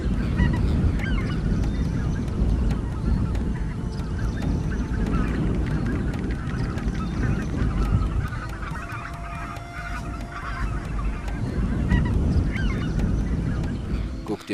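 A flock of geese honks continuously and loudly, many overlapping calls throughout, with a voice speaking faintly beneath at times.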